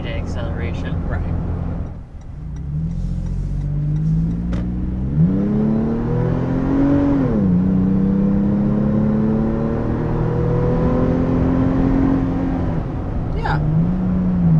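A 2023 Toyota 4Runner 40th Anniversary engine drones steadily from inside the cabin, then revs and climbs in pitch under acceleration, settles back, and rises again near the end, with voices occasionally heard over it.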